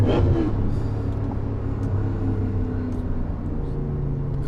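A BMW E39 M5 with Dinan S2 tuning pulling hard in third gear, its engine a steady loud rumbling drone heard from inside the car throughout.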